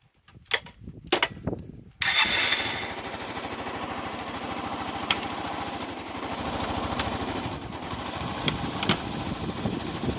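A Yamaha SR125 motorcycle, unstarted for three years, catches after a couple of sharp cranking bursts and settles into a loud, steady single-cylinder idle with a constant chugging rhythm up close.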